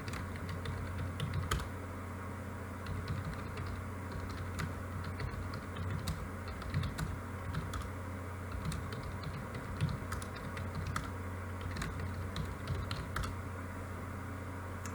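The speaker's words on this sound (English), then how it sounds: "typing in the same commands I typed for everything else" Continuous computer keyboard typing of commands to configure a Cisco switch, irregular clicking keystrokes, fairly faint over a steady low hum.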